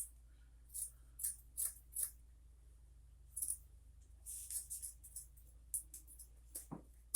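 Scissors cutting 550 paracord, giving a series of short, crisp snips in small irregular groups, close and fairly quiet against a low steady hum, with no one talking.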